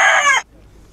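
Chicken vocalising close by, a single bright clucking call lasting under half a second before it cuts off into quiet.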